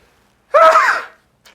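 A single sharp, loud sneeze bursts out, followed by a brief faint sound.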